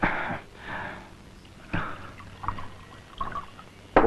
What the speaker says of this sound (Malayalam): ഒഴിക്കണോ?